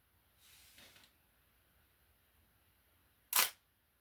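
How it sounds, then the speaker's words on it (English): A Minolta XG7 35mm film camera fires, its mirror flipping up with one sharp, crisp mechanical snap, close and loud against near silence, preceded by a faint soft whir. "When you take a photo, let's switch back over here to on. The mirror will flip up out of the way."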